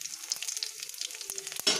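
Whole cumin seeds fry in hot oil already holding bay leaf and dried red chillies, a steady close sizzle with crisp crackling pops and a brief stir near the end, no voices.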